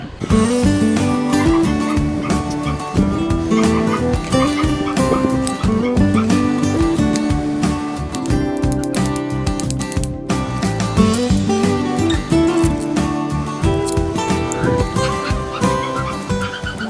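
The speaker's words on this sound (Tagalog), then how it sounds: "ang ingay ng mga aso sa labas" Dogs bark repeatedly in the distance under a dense, continuous music-like backdrop, with yips mixed in, steady throughout.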